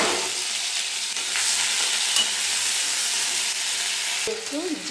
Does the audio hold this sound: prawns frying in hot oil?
yes